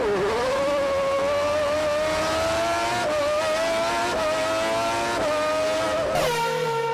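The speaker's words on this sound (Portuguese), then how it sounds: "Vamos testar a velocidade desse carro aqui" Car engine screaming at high speed in a mobile racing game, a loud sustained whine that climbs steadily in pitch with short dips between gear changes before a final shift.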